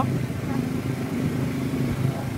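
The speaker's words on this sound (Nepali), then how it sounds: "हाम्रो राइडर दिदीले यहाँ पुरै बाइक चलाउनु भइरहेको छ" A motorcycle ridden by a woman gives a steady mid-pitched engine drone that holds at an even level for the whole stretch, with faint voices underneath.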